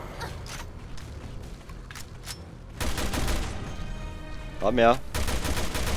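Gunfire in Resident Evil Revelations 2: repeated shots, at first sparse and fairly quiet, then denser louder bursts with a metallic ringing, under a short spoken remark.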